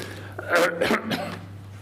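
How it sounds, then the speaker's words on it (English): An audience member addressing an AGM of the Federation of British Historic Vehicles gives a few rough, close coughs in quick succession over a low steady hum in the hall. "I apologise. I have a cough."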